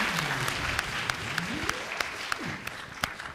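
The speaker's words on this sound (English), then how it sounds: "Let's give him some applause just for getting it working." Sparse, scattered clapping from a small audience at a theremin demonstration, fairly faint with distinct individual claps, over a wavering electronic tone and murmuring voices.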